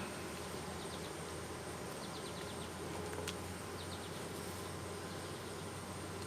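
A packed hive of honey bees buzzing as it is opened, a steady dense drone holding evenly throughout, with faint high chirps from birds or insects layered over it.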